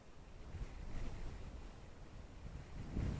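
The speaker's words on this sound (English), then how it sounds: "I've got 5 to 6 mile per hour wind out here this morning" Light morning wind of about 5 to 6 mph blows outdoors, a low rumbling buffet against the microphone with gusty swells, steady and fairly faint, with no voices.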